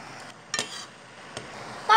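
Thai curry paste goes into boiling fish kidney broth and gets stirred, a few short scrapes and clinks of a utensil against the pot over a quiet hiss of simmering liquid, no voices.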